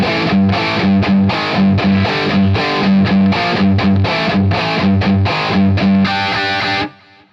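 A loud, heavily distorted electric guitar chugs through a fast riff of chunky double stops, then cuts off abruptly near the end.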